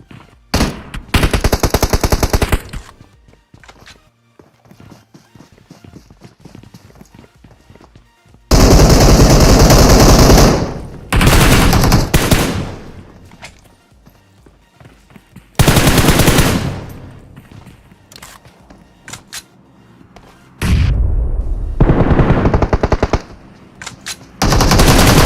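Automatic AKM and M762 rifle fire in the PUBG battle game comes in several loud, dense bursts of rapid shots separated by quieter gaps, with no talking.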